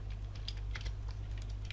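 Quick, light keystrokes tapped on a computer keyboard in scattered short bursts, faint and close against a low steady hum, with no talking.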